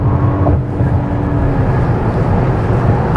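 Inside a Hyundai Palisade SUV in sport mode under full throttle, a steady, muffled low engine and road drone fills the cabin, loud and continuous with a faint whine, no talking.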